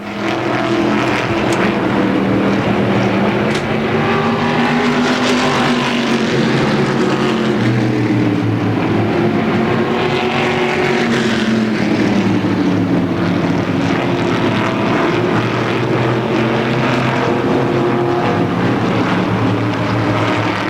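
Modified race cars roaring around the Motordrome Speedway oval, a dense continuous engine drone with shifting pitches from several cars bunched nose to tail, loud and steady throughout.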